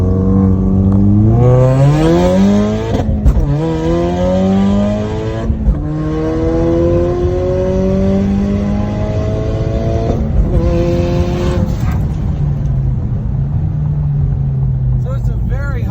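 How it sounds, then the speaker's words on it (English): A turbocharged 2016 car engine drones and rises in pitch through gear changes, exhaust note steady and loud with brief dips between shifts, heard from inside the cabin with windows partly up. "let you guys hear the car. We're just gonna roll up the windows just a little, so at least you can hear the exhaust note"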